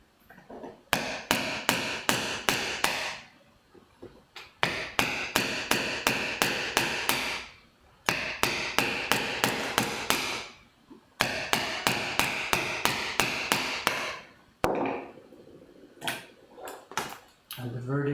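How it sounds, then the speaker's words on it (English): Hammer strikes used as a loud test sound: rapid bursts of sharp, loud, ringing taps in several long runs separated by brief pauses, with faint talk at the end. "Let's try what it does with a hammer."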